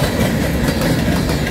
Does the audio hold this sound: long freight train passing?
yes